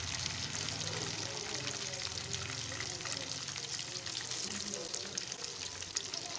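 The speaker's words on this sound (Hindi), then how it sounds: "ऐसे ही हम उसको फ्राई कर लेंगे जैसे हम लोगों ने पहले भी चिकन को फ्राई किया है" Chicken pakora fries in hot oil, a steady, fairly faint crackling sizzle that holds even throughout, with someone speaking over it.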